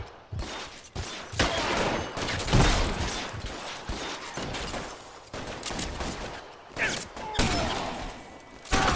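Rapid gunfire in the video game L.A. Noire: dense, overlapping bursts of shots and automatic fire, loud and close, with brief gaps between volleys and no talking.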